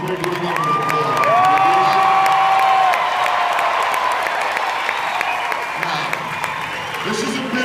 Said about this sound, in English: let's give the Westernaires a big round of applause.